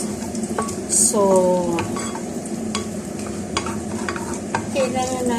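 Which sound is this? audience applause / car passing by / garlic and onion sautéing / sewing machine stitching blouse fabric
garlic and onion sautéing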